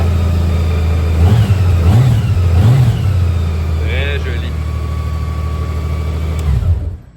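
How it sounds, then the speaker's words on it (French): A white 2020 motorcycle with six gears and low mileage idles steadily close by, with a few rising revs near the start before it cuts off at the end; a voice speaks briefly partway through. "Est-ce que tu démarres la moto?"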